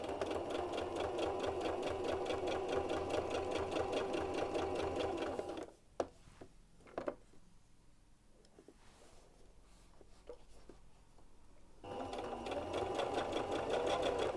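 A sewing machine stitches a stretched t-shirt seam, running in a steady fast whir for several seconds, pausing amid small handling clicks, then starting again at the same steady pace.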